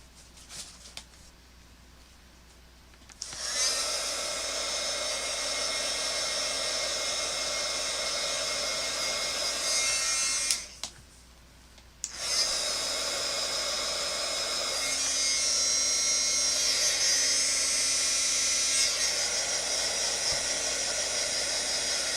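A heat tool blows steadily over colored charcoal pencil artwork in two long bursts, separated by a short pause. The hiss is loud and close, with no talking over it.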